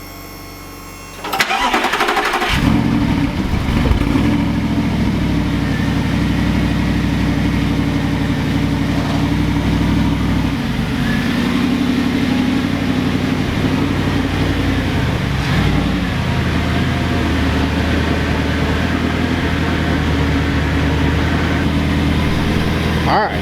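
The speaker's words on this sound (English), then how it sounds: "One last cold start with the stock exhaust, just for you guys." An Audi R8 with its stock exhaust starts cold, catching with a sharp burst, then settling into a loud, steady, high idle that holds for the rest of the clip, with a slight dip midway and no talking.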